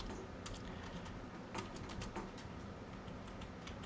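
Code being typed on a computer keyboard while scripting a top-down 2D game in Unity 6, heard as a sparse scatter of quick, faint key clicks over a steady low room hum.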